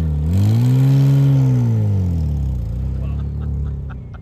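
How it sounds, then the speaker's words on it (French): A car exhaust revs very loudly up close, the engine note swelling and falling once before settling into a rumbling idle; the cars around are a Subaru Impreza and a Porsche 911 996 Turbo, with a 1988 Porsche 911 also present. "Je crois que j'ai jamais entendu d'échappement aussi bruyant"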